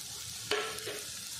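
Chopped cabbage tumbles into a pan of hot masala for a cabbage potato gravy, giving a sudden close sizzle and clatter that settles into a steady low frying hiss over about a second.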